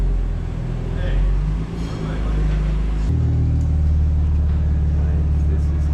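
A lowered BMW M4 F82 rolls slowly over a shop ramp, its engine a deep, steady low rumble close by that shifts in tone partway through, with a voice speaking over it.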